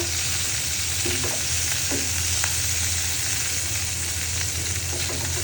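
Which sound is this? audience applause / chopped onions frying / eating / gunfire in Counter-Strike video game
chopped onions frying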